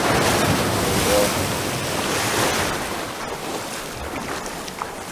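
Ocean waves break and splash against rocks along a bay shoreline: a broad, continuous wash of surf with wind buffeting the microphone, loudest early and easing off toward the end.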